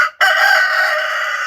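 A rooster crows loudly and close, one long drawn-out call that begins after a short pause and carries to the end.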